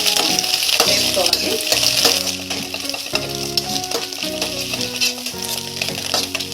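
Chopped cabbage fries and sizzles loudly in a pan while being stirred for egg noodles, a steady crackling hiss broken by repeated scraping stirs.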